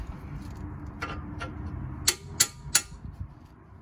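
A small hammer knocking out a bolt on a 2014 Jeep Patriot 2.4 front strut: three sharp metallic strikes ring out in quick succession over a low background rumble, preceded by a few softer taps.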